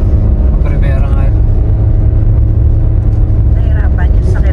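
A car engine labours with a deep, steady rumble as it climbs the steep road through Winnats Pass in the Peak District, with faint voices talking inside the vehicle.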